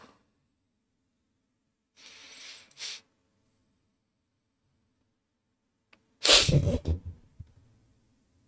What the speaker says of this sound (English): My sneeze just stopped in the middle of the sneeze.